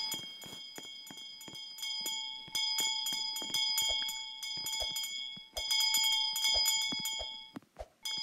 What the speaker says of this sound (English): Why do I hear your bells?